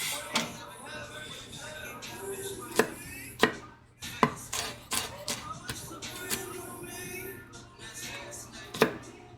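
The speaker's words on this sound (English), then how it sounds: "We're just gonna do a rough chop on these guys." Knife rough-chopping vegetables on a cutting board, a series of sharp, irregular thunks close by, some harder than others, scattered across several seconds in a quiet kitchen.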